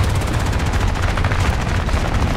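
Aircraft machine guns in the War Thunder air battle game fire as a loud, continuous rattling burst that fills the moment up close, with no voices.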